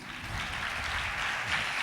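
A church congregation claps together in a continuous, moderately loud wash of many hands, steady throughout with no speech over it.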